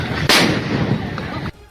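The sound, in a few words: grenade explosions in news footage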